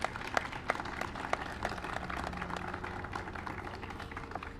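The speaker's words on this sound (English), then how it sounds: "Give them a big round of applause." Scattered applause from a crowd at a Memorial Day ceremony, honoring the Hawthorne High School ROTC; uneven claps sit under a steady low murmur and stay moderate and fairly distant throughout.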